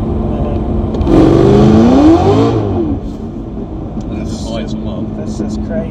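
A brand-new modified Chevrolet Camaro ZL1 1LE pulls hard in third gear, its engine note climbing loudly from the cabin for a couple of seconds before easing back to a lower drone.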